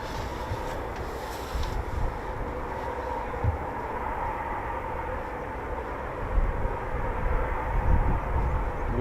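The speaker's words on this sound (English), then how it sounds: "That was the most amazing performance takeoff I've ever seen." Eurofighter Typhoon FGR4 fighter jet taking off at RAF Coningsby, a steady, loud broadband jet roar that holds throughout and swells slightly toward the end, heard from a distance.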